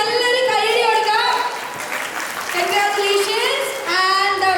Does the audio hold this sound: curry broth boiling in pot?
no